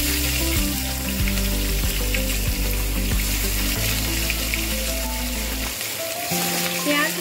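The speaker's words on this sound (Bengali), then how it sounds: "এইগুলো ভালো করে সিমে করে আস্তে আস্তে ভেজে নেব" Four large chopped onions fry slowly in oil on low heat for mutton kosha, a steady loud sizzle with occasional stirring scrapes and a brief lull near the end.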